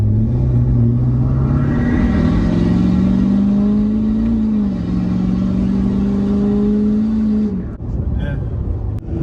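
A 6.7 Powerstroke diesel truck fitted with a KC Whistler pulls hard from about 30 mph, a loud rising engine drone and turbo whistle climbing steadily for several seconds before easing off near the end.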